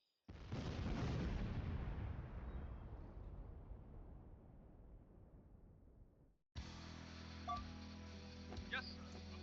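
A grenade explosion in Command and Conquer Tiberian Dawn, on a GDI campaign mission, hits with a sudden loud blast whose rumble fades slowly over several seconds. It gives way to game sounds and a talking voice.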